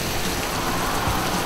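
Heavy rain pours steadily in a dense, even wash of sound, loud and constant throughout the short stretch, with no voices.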